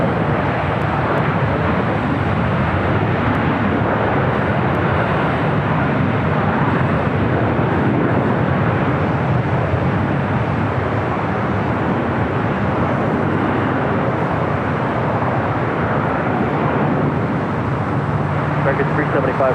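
An aircraft takes off from runway 25 right at LAX, a loud, continuous broadband roar that holds steady and close throughout without letting up.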